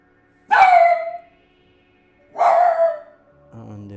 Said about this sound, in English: there's the dog upset because there's people outside shouting